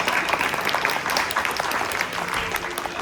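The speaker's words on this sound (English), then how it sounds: "So I want to have everyone give a round of applause for our panelists." Loud, continuous audience applause for a community panel, dense overlapping clapping filling the room for a few seconds, close and even, with no voices on top.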